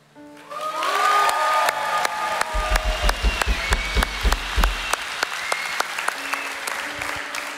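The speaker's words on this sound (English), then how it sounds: "we'd love to have you stay and cheer" A church congregation applauds and cheers for baptisms: sustained crowd clapping with scattered sharp individual claps and a few whoops, while someone talks over it near the start and end.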